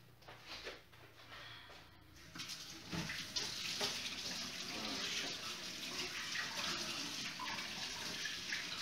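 A kitchen tap runs while hands are washed, a steady splashing water stream that starts softer with clatter and swells into continuous loud flow under the noise.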